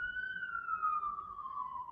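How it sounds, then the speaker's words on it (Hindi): An ambulance siren wails with one long, slowly falling tone, fairly faint and distant as it passes, with the background otherwise quiet. "मेरा ख्याल है एम्बुलेंस जा रही है।"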